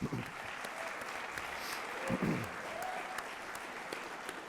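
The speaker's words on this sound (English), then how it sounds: "I'd like everybody to give Kevin a round of applause for that" Applause from guests at a hospital chief executive's toast, steady broadband clapping throughout with faint voices beneath.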